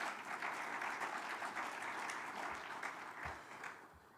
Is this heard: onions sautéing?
no